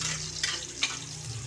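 Garlic sautéing in a pan after ginger, for a chicken tinola dish: a steady low sizzle with a couple of soft stirring scrapes, heard alone and fairly close.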